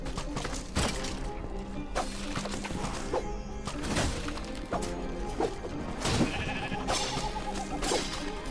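Sheep bleating in the video game Minecraft Dungeons, bursts repeating through a busy mix of game clatter and hits, moderately loud and fairly close.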